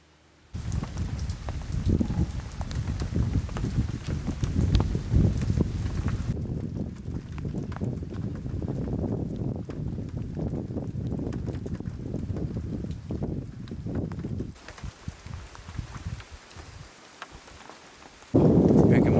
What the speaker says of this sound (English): Woke up to a little bit of rain, a little bit of wind